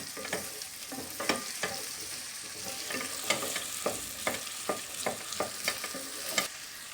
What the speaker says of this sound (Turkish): Bu şekilde kavurmaya devam ediyorum.